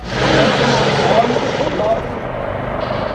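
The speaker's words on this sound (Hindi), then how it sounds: "इस युद्ध अभ्यास में देश में ही विकसित हल्के लड़ाकू हेलीकॉप्टर ध्रुव के अलावा ड्रोन का भी उपयोग किया गया" Dhruv light combat helicopter flying during an Indian Army war exercise near Jaisalmer, heard as a loud, steady broadband rotor and engine roar that continues throughout.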